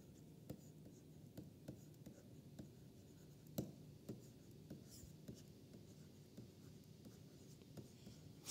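Pen or chalk writing during a physics lecture on partition functions, a series of faint scratchy strokes and taps spread irregularly over a quiet, noisy room background.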